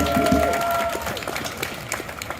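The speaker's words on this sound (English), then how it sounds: "Hand a round of applause for this guy" Scattered applause from a crowd at a live event at Portland City Hall, starting somewhat fuller and thinning into separate claps, with a faint tone and murmur underneath.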